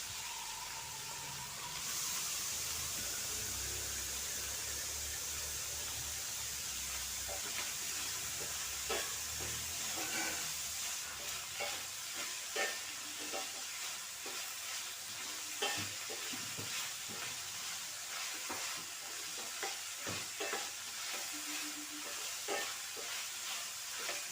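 Curry chillies frying in a pan for a Sri Lankan kaliya curry give a strong continuous sizzle and hiss, with scattered crackles and the scrape of stirring, close and alone without talk.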